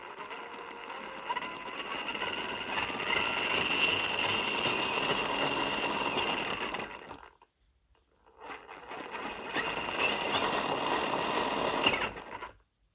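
Hobbywing Fusion SE motor in an Ecto RC car whining steadily on throttle, a sustained high mechanical whir close by that cuts out briefly and then runs again for several seconds.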